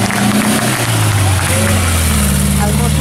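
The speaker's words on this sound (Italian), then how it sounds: "Al motore del maggiolino, motore Volkswagen." The Volkswagen engine of a Beetle rally car at a historic rally stage runs loud and close, holding a steady droning note with slight shifts in pitch while people talk over it.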